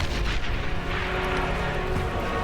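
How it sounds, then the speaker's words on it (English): A unit blows up in the real-time strategy game Beyond All Reason, a dense sustained rumbling boom with continuous crackling battle noise, loud and filling the whole moment. "Big explosion there, does go down."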